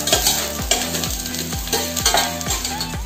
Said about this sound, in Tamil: இப்ப இதெல்லாமே நல்லா வந்து நம்ம வதக்கிக்கலாம்